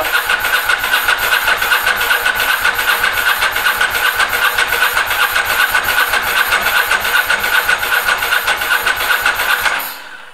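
A Ducati ST4 motorcycle engine cranks with a steady, rapid, rhythmic starter churn for about ten seconds, loud and close, then winds down abruptly, with no catch into an idle.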